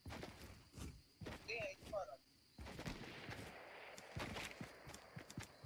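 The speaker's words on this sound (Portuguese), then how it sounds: "Tiro de arma de fogo." Quiet gunfire in the mobile game Fortnite, a few sharp bursts and single shots scattered among footsteps and other game noises.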